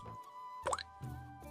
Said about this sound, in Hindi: पीतल के बर्तन में गिरती बूंदों की टिप टिप सुनाई दे रही थी